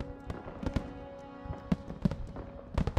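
Fireworks go off in the Call of Duty: WWII video game as a scatter of sharp pops and crackles, irregularly spaced, over a steady low background tone.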